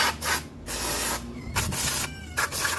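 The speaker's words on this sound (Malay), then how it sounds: "saya gunakan spray brake cleaner untuk kita spray dan cuci bahagian ini" Brake cleaner sprayed from a can onto a car brake disc during a Myvi rotor and brake pad change, in several loud close hissing bursts separated by short pauses.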